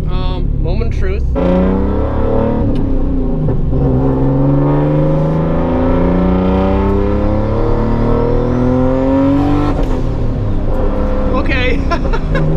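An RB20-powered Nissan 240SX with an S300 turbo accelerates hard from inside the car, engine pitch climbing through rising harmonics, dipping at shifts and rising again, loud and continuous with a spool whistle near the end.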